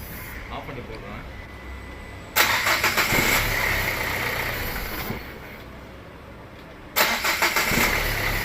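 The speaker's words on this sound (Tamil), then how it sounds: "ஒரே தட்டில் ஸ்டார்ட் ஆகுது." A Mahindra Verito diesel car engine cranks and catches twice, each start a sudden loud burst settling into a rough idle, with a voice talking in between.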